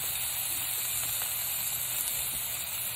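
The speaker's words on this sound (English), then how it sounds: "that's what you want to hear right off the bat is that nice sizzle." Zabuton steak sizzling in hot oil in a pan, a steady, even hiss that stays loud and close for the whole stretch, with no voices over it.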